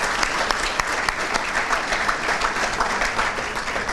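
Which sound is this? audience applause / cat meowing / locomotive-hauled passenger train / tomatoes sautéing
audience applause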